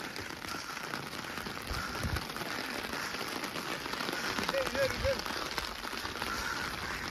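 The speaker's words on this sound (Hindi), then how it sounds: "बारिश बहुत ज़्यादा पड़ रही है यहाँ पे" Heavy rain pours down steadily outdoors, a dense, even hiss that continues for the whole stretch with no pauses.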